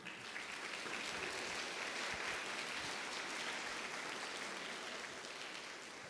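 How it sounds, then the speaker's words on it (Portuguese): A congregation applauding at a church sermon, a sustained, even roar of many hands clapping, full and continuous from a slight distance, with no voices standing out. "E vamos aplaudir a palavra do Senhor."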